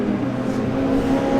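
A Ginetta G4R race car parked in a paddock with its rear raised holds a loud, steady engine drone while its carburetor is tuned, with no one talking.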